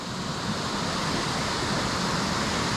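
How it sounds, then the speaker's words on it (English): Mouse Creek Falls, a waterfall reached by a hiking trail, pours with a steady, loud broadband roar that stays constant and close throughout, with no voices. "So it's Mouse Creek Falls."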